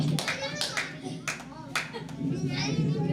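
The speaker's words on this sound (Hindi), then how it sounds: "तालियां तालियां ज्यादा मत बजाइए, ज्यादा मत बजाइए।" An audience at a madrasa quiz competition claps steadily and fairly loudly, with sharp hand slaps throughout and voices and children's chatter mixed underneath.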